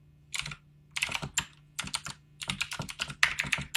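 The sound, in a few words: typing on a computer keyboard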